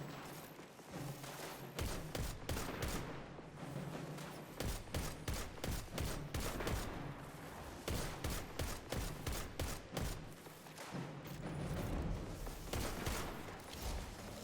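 Rapid bursts of Jotun weapon fire in the video game Destiny, the Zero Hour secret mission, with quick repeated shots in clusters over a continuous loud battle din and no speech.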